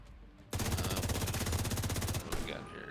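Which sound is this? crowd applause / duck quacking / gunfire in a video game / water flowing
gunfire in a video game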